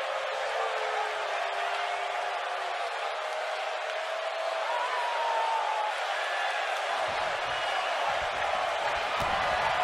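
A wrestling arena crowd in WWE 2K22 roars continuously, a dense wash of cheering and noise filling the space, with heavier thuds breaking through near the end.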